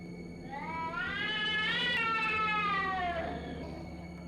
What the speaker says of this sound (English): The uninvited guest, the cat.